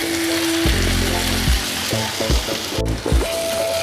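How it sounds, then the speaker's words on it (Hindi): Dry ground spices such as turmeric and coriander powder roast in oil in a pan for an egg dish, giving a loud, close, continuous sizzle with some low mechanical humming tones running underneath. "ड्राई मसाले डालने के बाद हम कुछ देर भून लेंगे।"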